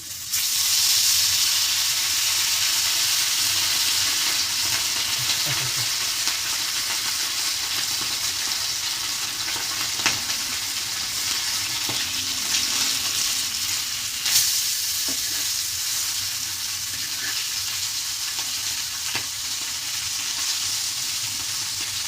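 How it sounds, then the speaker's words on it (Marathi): Fish frying in hot oil makes a loud, dense, continuous hissing sizzle that stays close and steady throughout, with only a few faint clicks and thin crackles rising above it. "तर आता आपण फ्राय बनवणार आहे."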